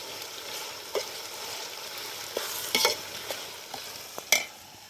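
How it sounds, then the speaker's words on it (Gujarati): Low, steady sizzling of chilies and tomatoes frying in oil for Kutchi kharibhat, broken by a few sharp scrapes and clinks of stirring against a pan. "મરચાં ટમાટર તેલમાં નાખી"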